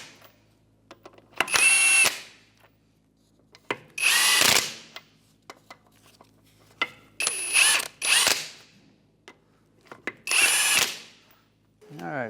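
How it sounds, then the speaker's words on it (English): Ratchet wrench fitted with a 21mm socket snugging the lug nuts on a reinstalled front wheel of a 2011-2016 Hyundai Elantra, heard as four loud bursts of rapid clicking separated by short pauses. "with a 21mm socket. We'll just snug these up."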